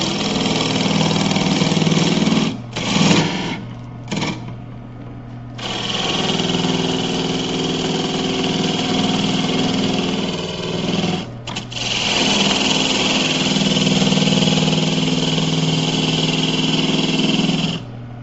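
A wood lathe turns a bird feeder, its motor giving a loud, steady whining hum that cuts out briefly a few times before running on evenly, with no voices.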